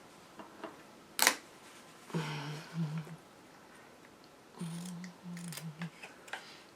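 Scissors cut through sewn fabric at a pillowcase corner, trimming a skinny triangle near the stitching; a couple of crisp snips and rustles come up close and fairly quiet, with a sharp click early on.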